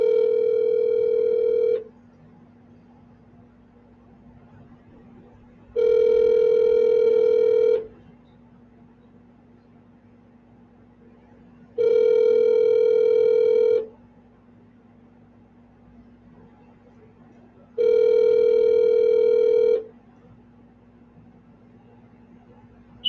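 A telephone ringback tone on an unanswered call repeats four times, each ring lasting about two seconds with roughly four seconds of low steady hum between, loud and clear with no one speaking.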